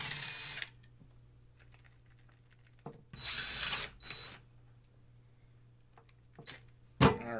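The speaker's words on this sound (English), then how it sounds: "maybe we'll pull out all these bolts" A power tool whirs in short bursts as bolts come out of a vintage Polaris single-cylinder race snowmobile engine, with a few metallic clicks and clanks between the bursts and a steady low hum underneath.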